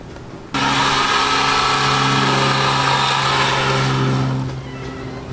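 Pole saw engine running while trimming trees outdoors, starting abruptly after a quiet moment and then droning steadily and loudly at a high pitch before easing off near the end.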